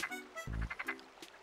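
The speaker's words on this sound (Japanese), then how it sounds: "俺カエルの声するよね。" Frog croaking in the Animal Crossing: City Folk video game, a few quick, clear croaks in a burst, fairly quiet and on their own.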